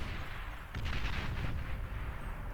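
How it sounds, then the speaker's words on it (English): Artillery fire in the real-time strategy game Beyond All Reason, a steady wash of distant booming shots that swells into a denser barrage partway through, with no voices over it. "The artillery are just giving that sort of long-range fire support here."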